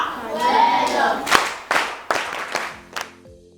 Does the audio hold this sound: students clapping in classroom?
yes